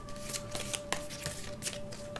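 Tarot cards riffle-shuffled by hand in quick repeated bursts, close and fairly quiet, with a steady faint tone in the background.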